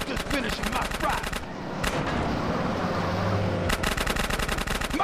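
Rapid automatic gunfire in GTA San Andreas bursts out loud and near, then drops to a steady background rumble before another string of rattling shots returns, no talking over it.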